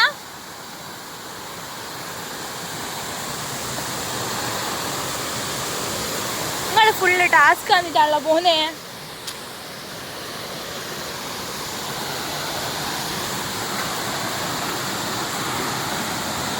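A river rushing steadily as a broad, constant roar of flowing water, close and loud throughout, with a few seconds of talk partway through.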